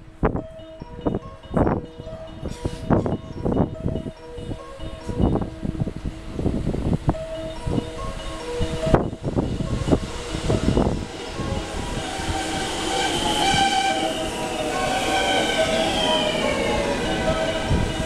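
A JR West 223 series local train arriving at platform 2 of a Japanese station, with rhythmic wheel clatter and rumble growing into a sustained loud hiss and squeal as it pulls in.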